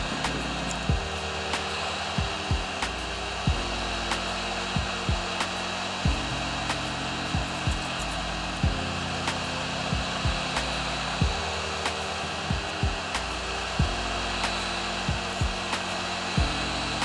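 Hot air blower warming a glued-down board inside a water-damaged Samsung Galaxy A50 phone, a steady close airy hiss with recurring clicks and small tonal shifts as it runs continuously.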